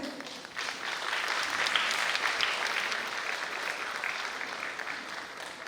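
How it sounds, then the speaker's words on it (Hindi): Sustained applause from a large audience welcoming the governor at a program in Ranchi, Jharkhand, a dense even wash of clapping that holds steady throughout, slightly distant. "जोरदार तालियों से स्वागत।"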